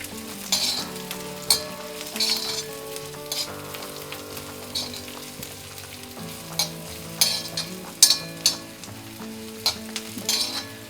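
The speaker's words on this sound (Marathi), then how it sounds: "बडीशेप, लसूण, आलं। आता हे सगळं कांद्यासोबत आपण परतून घेऊया।" Fennel, garlic and ginger fry with onions in a pan, sizzling steadily while a utensil stirs and scrapes in repeated close strokes. No one talks over it.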